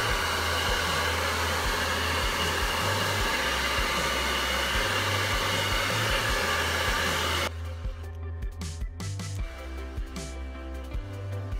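Steady, loud hair dryer roar close by while blow-drying the ends of long, thick, curly hair, continuous airflow hiss with a low hum, shifting tone near the end as the dryer moves.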